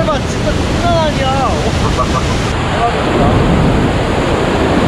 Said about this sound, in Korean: 폭포수랑 조금 떨어져 있는데도 물이 많이 튀더라고요. 대자연의 힘.